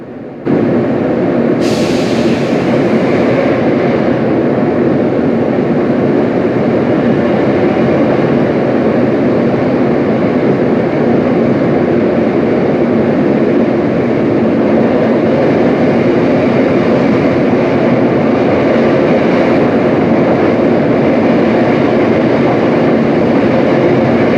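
A West Midlands class 172 Turbostar diesel train on a Dorridge to Kidderminster service rolls through a deep cutting, a loud steady engine drone and rumble that holds throughout with no talk.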